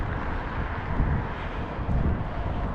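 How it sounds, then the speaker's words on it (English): Strong wind gusts along a street in Lewiston, Maine, producing a low, rumbling roar that buffets the microphone, swelling in a few heavier pushes. "it is still very windy in Maine"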